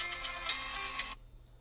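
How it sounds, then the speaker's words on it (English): A phone ringtone plays for an incoming call, a bright repeating chime pattern for about a second before cutting off abruptly into quiet room noise. "I don't recognize your name. I'm not going to answer your fucking phone call."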